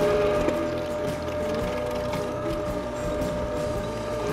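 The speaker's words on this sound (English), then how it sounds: "I let the grinder do the work. It's working at its own pace." A meat grinder works sausage meat for garlic summer sausage, producing a continuous, steady mechanical whirring and grinding at a moderate level, with no voices.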